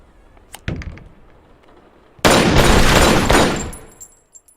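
Gunfire in a film shooting scene where three attackers open fire: a few sharp scattered shots, then a sustained loud burst of rapid firing that fades out, with no voices.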